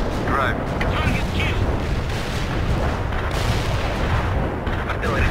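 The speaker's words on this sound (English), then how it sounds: "Artillery strike complete." Artillery barrage in the World in Conflict video game, a loud, steady rumble of overlapping explosions and gunfire that rolls on without pause, with bursts rising and falling throughout.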